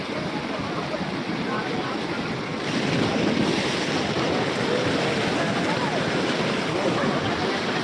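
Sea waves and surf at Digha Mohana by the wholesale fish market, a steady roaring wash with wind buffeting the microphone, growing louder partway through, with no clear talk.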